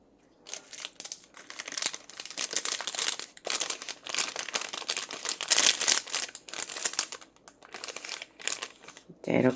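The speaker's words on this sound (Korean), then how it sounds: "이 풀린 끝실을 이 비닐에 구멍 뚫어 놓은 여기로 빼주세요" A plastic bag crinkles and rustles up close as raffia yarn is pulled through a hole cut in it for a crocheted bag, an irregular run of crackling handling noise.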